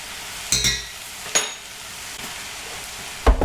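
A spoonful of flour is stirred into a pan of cooking shepherd's pie filling, giving a few brief scraping strokes and soft clatters of the spoon against the pan, close by over a faint background.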